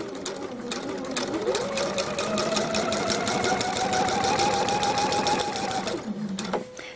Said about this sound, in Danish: Og så tager vi lige fire sting på tværs af slisen hernede i bunden.